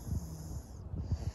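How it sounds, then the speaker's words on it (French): A sleeping baby snores softly, with several short, low, snorting breaths in an irregular rhythm, close and quiet with no talk over it. "Elle ronfle et tout."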